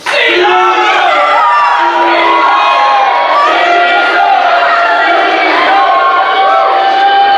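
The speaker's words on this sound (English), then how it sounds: "What is this shouting?" Crowd in a stage performance of Shakespeare's Julius Caesar shouting and cheering loudly and continuously, a dense wall of many excited voices with whoops rising and falling throughout.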